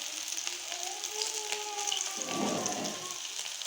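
Potato kebabs fry in a small pan, giving a steady close sizzle and crackle of hot oil with a brief louder burst partway through.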